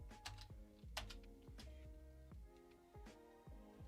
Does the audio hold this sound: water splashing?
no